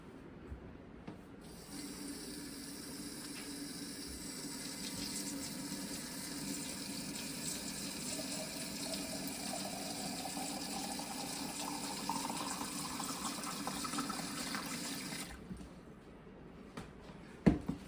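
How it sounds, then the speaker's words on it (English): Water pours steadily into canning jars during home hog processing, a continuous close gurgling stream whose pitch rises gradually as each jar fills, then stops abruptly, followed by a soft clink. "we're going to fill them with water and get all the air bubbles out"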